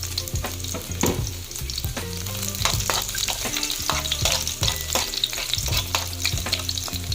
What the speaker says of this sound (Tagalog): mainit na yung ating corn oil. Lagay na natin yung ating garlic.